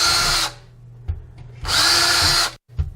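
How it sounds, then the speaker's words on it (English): A power drill with a 3/16 inch bit bores pilot holes for a wall bracket's bolts, running in two loud, close bursts separated by a short pause, then a brief final whir. "I'm using a 3/16 inch bit, which is smaller than the screws that were provided."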